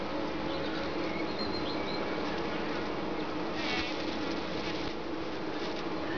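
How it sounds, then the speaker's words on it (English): Bumblebee tangling with honeybees, a dense continuous buzz of insect wings holding steady and fairly loud throughout, with brief swells as the insects scuffle close by. "Bumblebee versus the honeybees."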